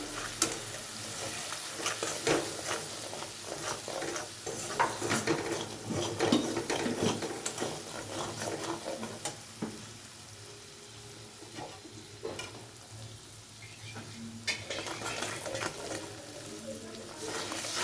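Turmeric and Kashmiri chili powder sizzle in hot oil in a pan while cooking a Bengali dhokar dalna. The frying hiss is steady and close, with scraping stirs and occasional clinks throughout.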